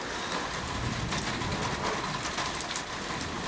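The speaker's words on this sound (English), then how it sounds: "relaxing as the rain slowly dies down" Steady rain falls outdoors beside a patio and lawn in Kuala Lumpur, a dense, even hiss of drops on surfaces with a few brighter spatters, holding at a constant moderate level throughout with no voices.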